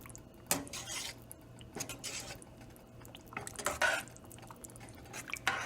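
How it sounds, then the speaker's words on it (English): Vegan pasta e fagioli being stirred in a pot, with a spoon scraping and clinking against the metal in irregular bursts, close up and moderately quiet, no voices. "we're gonna do a final stir of all the ingredients"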